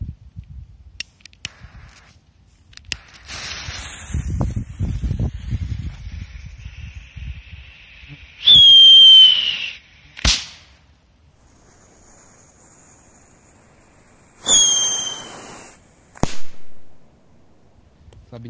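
A Grand Mouse firecracker set off in sand gives two short, loud hissing bursts close by, each sharp at its start and dying away within a second or two, after a quieter stretch of rustling ground noise.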